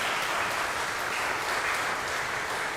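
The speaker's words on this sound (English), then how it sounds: "If we could give a round of applause to our amazing panelists." Audience applause for panelists after a community discussion on end-of-life topics, steady dense clapping at even loudness from start to finish.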